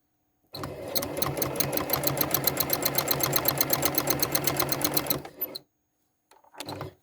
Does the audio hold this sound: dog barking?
no